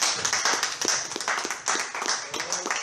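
A church congregation at a Portuguese-language worship service claps in a fairly steady rhythm, sharp overlapping claps at close range.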